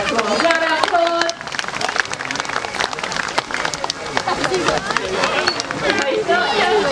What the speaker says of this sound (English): That deserves a massive round of applause.